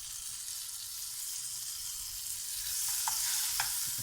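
Butter sizzles in a frying pan as egg bread cooks, a continuous bright hiss over a cooktop, with a few utensil scrapes and taps toward the end.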